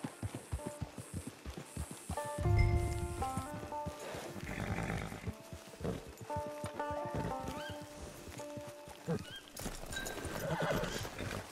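A horse in the Red Dead Online video game clip-clops along with steady, rhythmic hoofbeats close by, letting out loud neighs between them over a layer of musical game score.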